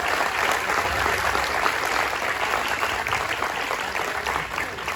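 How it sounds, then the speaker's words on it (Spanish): Steady applause from a conference audience for panelists at an agile software event, continuous and fairly full, holding at an even level from start to finish. "Un fuerte aplauso para Juan"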